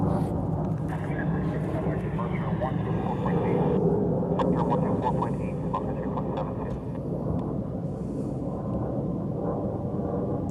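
Loud, continuous roar of a C-17 military transport jet passing overhead at roughly 4,000 feet near Honolulu airport, steady engine rumble filling the whole stretch with people talking over it.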